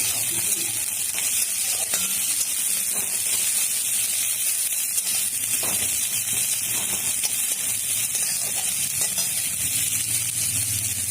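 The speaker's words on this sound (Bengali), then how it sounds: "পেঁয়াজটা একটু লাল লাল করে ভাজা হোক।" Onions fry in a pan with a constant bright sizzling hiss lasting the whole stretch, steady and fairly loud, with faint clinks of cooking underneath.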